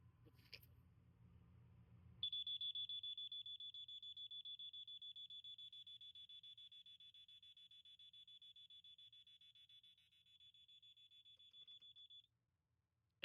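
A fire alarm system set to California code sounds one long, steady high-pitched beeping tone for about ten seconds before cutting off, fairly loud over a quiet room with a faint low hum.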